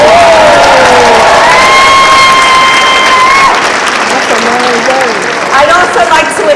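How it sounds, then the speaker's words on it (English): A crowd gathered in Long Beach to welcome the Carnival Panorama's crew claps and cheers loudly, with whoops and shouts over dense applause that eases slightly toward the end. "Let's give them a big round of applause."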